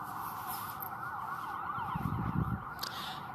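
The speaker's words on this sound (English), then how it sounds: "And these sirens start the moment that the helicopter that just flew over my head stopped sounding." Emergency sirens wailing steadily at the corner of Euclid Avenue and B Street near Ontario Town Square, a sustained rising-and-falling tone under distant street noise, moderately loud and unbroken throughout.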